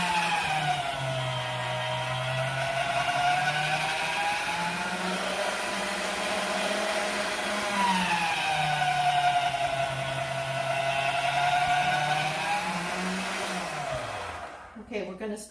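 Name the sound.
pasta machine running, rolling homemade pasta dough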